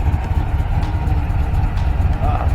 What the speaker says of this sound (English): Now that is an engine.